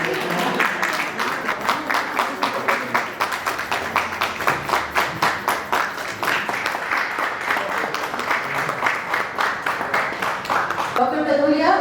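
A hall audience bursts into loud, sustained applause of many hands clapping to welcome a guest speaker at an event on family and geriatric caregiving, steady for the whole stretch before it ends.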